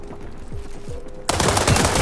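Automatic M416 assault rifle fire in the World War 3 video game: a few spaced shots followed by a sudden loud, dense burst of rapid gunfire, with no voices.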